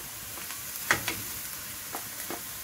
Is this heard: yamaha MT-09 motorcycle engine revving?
no